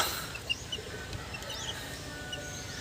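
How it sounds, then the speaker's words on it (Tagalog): Chicks cheep in a few faint, high, short peeps scattered over a low background hum, with no voices. "Ito na lang dito sa ating mga sisiw."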